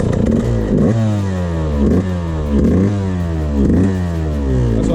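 A Yamaha YZ125 two-stroke dirt bike engine runs close by on freshly rebuilt internals, its raspy idle rising and falling in steady rhythmic surges, loud and alone throughout.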